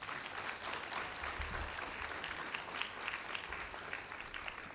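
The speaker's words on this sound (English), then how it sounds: "Let's give ourselves a round of applause." A round of applause from the audience at a national science education conference at the Smithsonian National Air and Space Museum, even, continuous clapping from a large crowd heard at a moderate distance.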